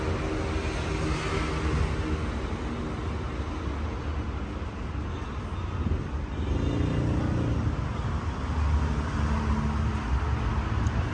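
Idling engine of a 2014 Nissan Almera with a 1.2 litre engine and automatic gearbox, heard with the bonnet open: a steady, fairly close low hum and rumble that holds evenly throughout, with no talk over it.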